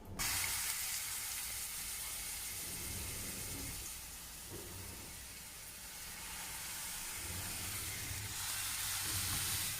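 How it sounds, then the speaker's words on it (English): A smash burger patty sizzles in a very hot oiled pan, giving a loud, continuous close-up hiss and crackle that swells and eases slightly but never stops, with no voices over it. "So now I'm going to cook the patty right now."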